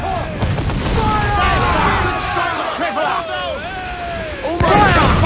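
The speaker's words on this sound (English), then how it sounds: "Look, the fire mortars!" Fire mortars fire and explode in a naval battle in Assassin's Creed Black Flag, a dense, continuous barrage of booms and gunfire with shouting voices and whistling tones over it.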